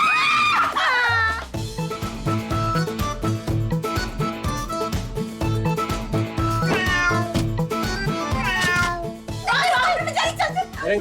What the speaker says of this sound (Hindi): बिल्ली मुझे काट जाएगी, निकालो इसको।